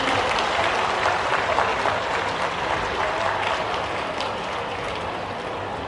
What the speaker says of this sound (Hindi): जोरदार तालियां बजना चाहिए